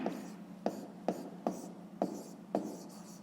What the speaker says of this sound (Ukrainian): Ну і записуємо.